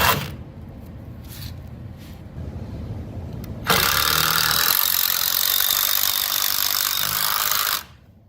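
A power drill driving Tapcon concrete screws into a basement wall whirs steadily for several seconds at close range, loud and continuous, then stops abruptly; quieter mechanical noise precedes it.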